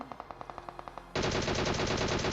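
Gunfire in a mobile shooter game, a short series of evenly spaced single shots followed by a dense, loud burst of rapid automatic fire, no speech.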